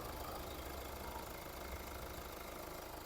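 The 2.0 diesel engine of a 2011 Hyundai ix35 idles with a steady, even low rumble, heard close and continuously with no talk.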